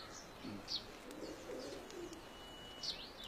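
Pigeons coo softly and at a distance in a few short, widely spaced calls over a quiet, hissy background.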